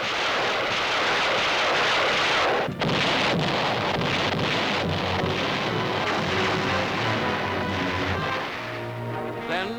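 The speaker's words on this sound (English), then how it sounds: "First, the bombardment." Naval bombardment of Okinawa roars as sustained, dense artillery fire and rumbling blasts, loud and continuous with heavy low-end booms throughout, in an archival newsreel recording.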